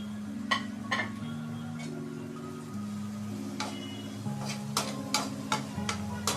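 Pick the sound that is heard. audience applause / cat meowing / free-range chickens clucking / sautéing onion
sautéing onion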